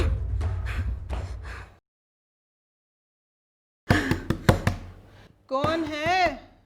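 Several sharp, hard knocks pound on a door in quick irregular succession, close and loud, with voices talking before and after.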